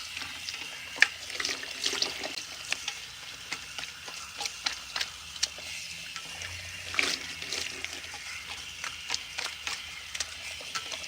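Tap water runs steadily while conditioner is rinsed out of relaxed hair, a continuous moderate splashing hiss with scattered small drips and splatters, and no voices.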